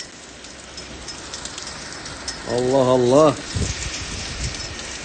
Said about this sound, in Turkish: dolu yağıyor